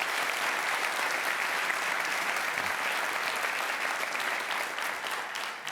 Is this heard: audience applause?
yes